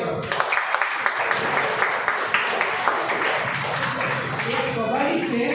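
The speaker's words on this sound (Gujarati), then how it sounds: "બધા છોકરા માટે તાળી પાડો" An audience seated around a school hall claps for a group of children, a crowd of hands rising under a speaking voice that carries on through the clapping.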